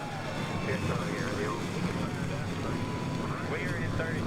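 Race car engines drone at the start of a NASCAR Racing 2003 game session, a steady loud mechanical roar with wavering tones, while a voice talks over it.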